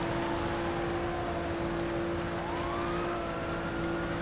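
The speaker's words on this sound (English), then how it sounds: "Still hear the sirens." Police sirens in the GTA 5 Online video game wail faintly in the distance over a constant engine drone, with one rising sweep partway through.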